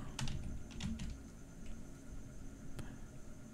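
Keys on a computer keyboard are typed in a short quick burst of clicks and taps, close and clear over a faint steady background hum.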